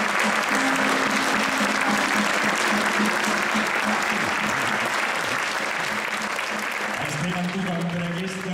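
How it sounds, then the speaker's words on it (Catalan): A crowd in a town square applauds loudly and continuously, with a steady wash of clapping and a voice speaking over it. "un fort aplaudiment"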